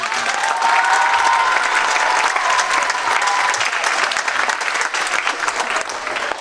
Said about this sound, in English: just a round of applause for all the students that performed for us tonight